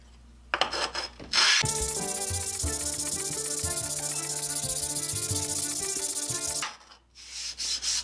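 A piece of scrap sandstone is rubbed flat on sandpaper to make a whetstone, producing a loud, sustained gritty scraping at close range that starts abruptly and stops, with no voices.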